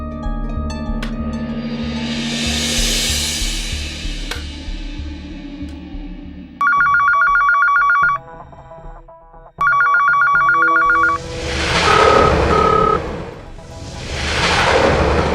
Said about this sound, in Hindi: नहीं विकास, तुम एक काम करो, एक बार वापस फोन करो।